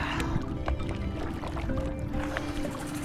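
An inflatable dinghy sets off on sea water off the Greek islands, with a continuous low motor drone, splashing and lapping water throughout.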